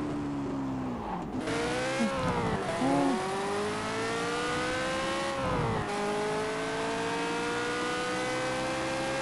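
A McLaren P1 supercar's engine screams at full throttle, rising through gears with sharp shift dips and brief tire squeal, loud and close throughout with no talking.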